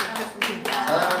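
Congregation in a Korean church service clapping hands in welcome, quick bursts of claps mixed with overlapping voices.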